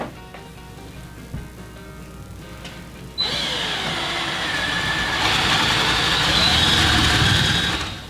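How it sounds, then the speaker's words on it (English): A power drill bores a hole for a pipe while an air meter is being installed. After about three seconds of near silence, a loud, close, steady whining drone starts and runs without a break to the end. "start drilling a hole so I can get my pipe through first"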